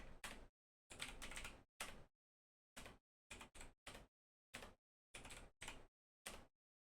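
Typing on a computer keyboard in short separated bursts of quick key clicks with silent gaps between them, close and clear, no voices.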